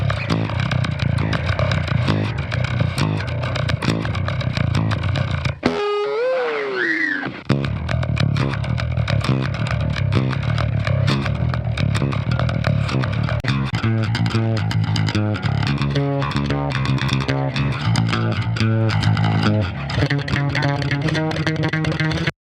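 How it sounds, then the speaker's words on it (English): Bass line run through a mellow, non-aggressive distortion effect from a free Sonic Anomaly plugin, a continuous gritty tone with a short break partway through, loud and steady with no talking. "Let's try to add some dirt, which is some distortion."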